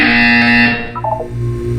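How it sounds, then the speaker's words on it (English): A loud, harsh electronic buzzer in Portal 2 blares steadily, then breaks into a short wavering tone before a low hum continues. "You will hear a buzzer. When you hear the buzzer, look up at the ceiling."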